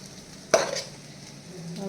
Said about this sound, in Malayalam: സോ നമുക്ക് 2 പേർക്കും വേണ്ടുന്ന റൈസ് ഇതിനകത്തോട്ട് ആഡ് ചെയ്യാം.